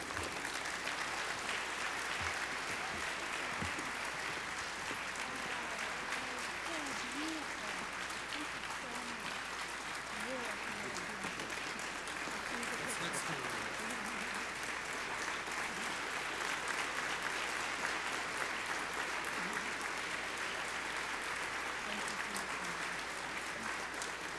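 An audience at a tribute event celebrating Jewish education applauds to welcome Jaynie Schultz and Ron Romaner, a dense, even wash of clapping that holds for over twenty seconds.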